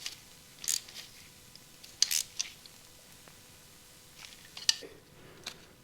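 Cutters snip a cable tie during a cam belt change on a 33-year-old derelict Honda Goldwing: three or four short, crisp clicks spread over several seconds, close and fairly quiet, with no talking.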